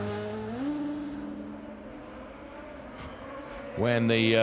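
A DTM race car engine drones and rises in pitch as it accelerates during free practice at the Nürburgring, then a louder, higher roar surges in at the end.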